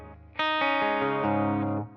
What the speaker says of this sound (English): So we've got the delay going on.